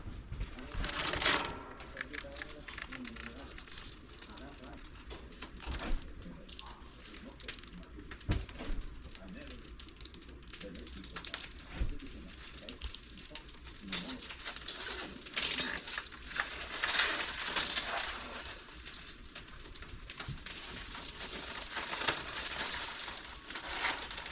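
Protective film is peeled off sheet metal in a series of crinkling, crackly tearing sounds with scattered sharp ticks, fairly close and continuous, while a person talks over parts of it.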